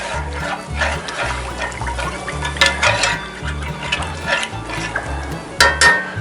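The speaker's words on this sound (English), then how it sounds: "go ahead and put in about a half a cup of milk. Give that a little stir." A spoon stirs toasted garlic and half a cup of milk in a pan while cooking crappie, with a low background hum under irregular scraping and liquid sloshing, close and moderately loud.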